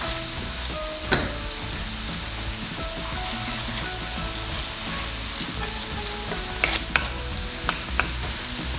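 Onions sizzle steadily in a hot pan with a pinch of turmeric added, a continuous close frying hiss with occasional sharper pops and stirring clinks, no voices.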